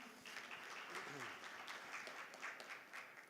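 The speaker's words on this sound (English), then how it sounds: "Another round of applause for him," Applause from a conference audience at a rail industry event in Africa, faint and distant, a soft continuous patter of many hands with some murmured voices mixed in.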